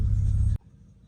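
A Mazda car fitted with new ignition coils accelerates hard on a highway. A loud, deep engine roar lasts about half a second, then cuts off abruptly to faint low road noise.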